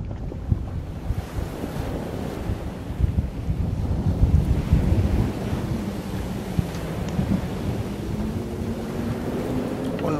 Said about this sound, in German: Der Wind hat eben ganz schön aufgebraust.